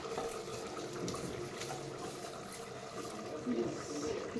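Water runs steadily and fairly softly into a pot of rice being readied for donne chicken biryani, a continuous gentle pouring flow throughout.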